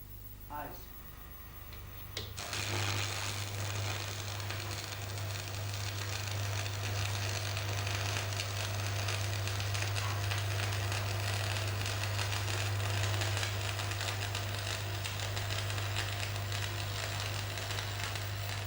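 Steel lap joint being arc welded with a stick electrode: after a quiet start, a steady crackling hiss with a constant low hum sets in and runs unbroken, close and fairly loud, with a voice heard under it.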